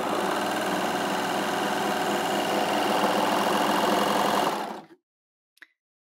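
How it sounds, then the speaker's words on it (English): A Baby Lock Victory overlocker sews fabric with a loud, fast, even mechanical whirr for several seconds, then stops sharply, followed by silence and a small click. "we'll just place this fabric under the foot and sew"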